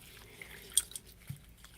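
Sparse water drips fall one at a time at close range, a few soft plinks scattered over a quiet background during a rose ceremony. No voices are present.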